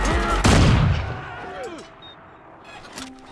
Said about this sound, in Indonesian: ada seorang nenek datang yang langsung menembakkan senjatanya ke atas